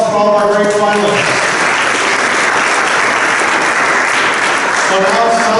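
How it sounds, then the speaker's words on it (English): Loud, dense applause from the crowd at an awards ceremony for high school basketball finalists, filling the room and sustained evenly throughout, with a voice heard briefly at the start and end. "So let's have a round of applause for all of our great finalists"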